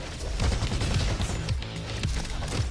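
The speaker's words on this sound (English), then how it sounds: "The Robo AK, has some really good recoil on it." Rapid automatic gunfire from the Robo AK rifle in the video game Robo Quest, a loud, continuous rattling burst of shots with heavy low thumps running throughout, no talking over it.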